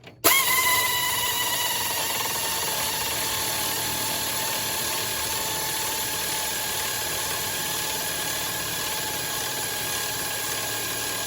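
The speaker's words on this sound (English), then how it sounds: "I'm going to do that with an air ratchet. Put it on the front of the oil pump." An air ratchet spins the oil pump on the front of a Bill Elliott race car engine, a loud, steady, continuous whirring drone that starts abruptly and holds unchanged for over ten seconds.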